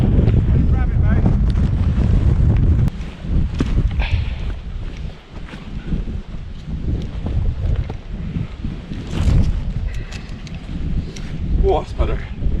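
Strong storm wind on Dartmoor buffets the microphone in loud, continuous roaring gusts that ease slightly midway, with people's voices shouting faintly through the blustery noise at a campsite.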